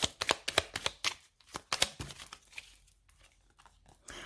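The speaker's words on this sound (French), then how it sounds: "On va mettre une carte sur le choix." Tarot cards being shuffled by hand, a quick run of crisp riffling card slaps in a steady rhythm, then softer slides and rustles, close and clear with no talking.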